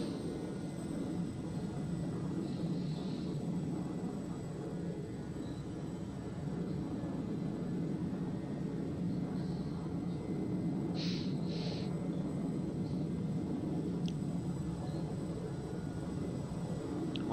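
Steady jet engine roar from an aircraft on a carrier deck in Flight Simulator X, a continuous broad rumble holding evenly throughout with a few brief higher clicks near the end.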